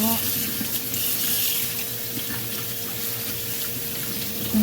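Steady bubbling and hissing of a rice cooker boiling, a continuous watery rumble close by with a faint hum underneath.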